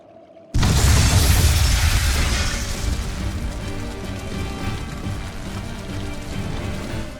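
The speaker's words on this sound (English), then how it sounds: "Tools of flamestone, sulfur, and oil. Those will explode." Flamestone, sulfur and oil stores erupt in Tales of Berseria: a sudden loud explosive boom that rolls into a sustained crackling, rumbling roar with debris-like clatter, staying dense and loud for several seconds.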